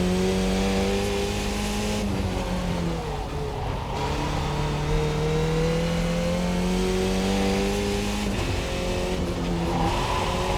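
Simulated F2000 race car in iRacing at Pocono South working through a chicane: loud steady engine note that sags on braking and downshifts, then rises again as power comes back on, with no talk over it.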